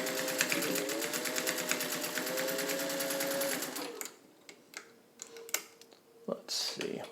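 Vintage sewing machine running through fabric, a fast steady stitching rattle for about four seconds that then stops, followed by handling noises and someone speaking nearby.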